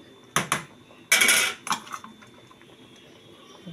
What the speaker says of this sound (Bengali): এভাবে একটু উল্টে পাল্টে ভিতরে ঢুকিয়ে দেবো, যাতে মাছগুলোর মধ্যে মশলাটা ঢোকে।